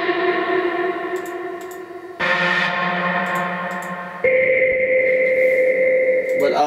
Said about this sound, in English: in Animals I actually also have sounds with a shitload of reverb on it